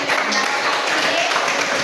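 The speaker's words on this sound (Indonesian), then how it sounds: "Tepuk tangan dulu untuk semuanya" Classroom students clapping together, a dense continuous patter of many hands filling a short burst at close range.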